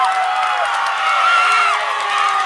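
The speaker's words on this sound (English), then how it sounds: "the Bullard crowd is going ballistic" The home crowd at a Bullard high school softball playoff game roars after a home run, with loud, sustained cheering, whoops and shouts from many people filling the whole stretch.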